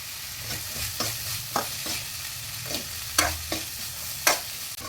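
White chickpeas and onions stirred in a pan for sundal, a spoon scraping in steady, irregular strokes over a soft, constant sizzle, close and moderately quiet.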